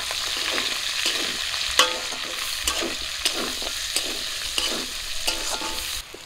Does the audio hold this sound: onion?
yes